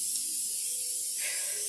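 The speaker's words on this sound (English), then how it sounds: "just get some regular, you know, butter flavored spray, and just spray your pans" Butter-flavored cooking spray hisses steadily from an aerosol can onto baking pans, a continuous close spray lasting under two seconds with a slight shift in tone partway through.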